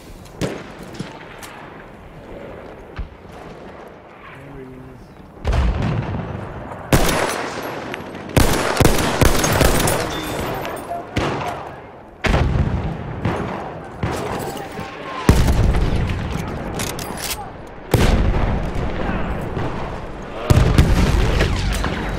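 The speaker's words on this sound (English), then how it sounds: "Mortars, baby." Mortar fire and explosions in a combat video game, with repeated heavy booming blasts and bursts of gunfire at irregular intervals over continuous battle noise, loud and close, and a voice occasionally speaking.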